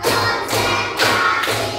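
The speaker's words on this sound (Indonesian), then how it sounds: "Tepuk 1, tepuk 2, tepuk 3, tepuk 4," A classroom of students claps together in rhythm, with about four broad, evenly spaced bursts of claps close by in quick succession.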